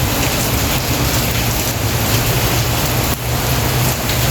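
Steady heavy rain pours down outdoors, a dense unbroken hiss at close range with no voices.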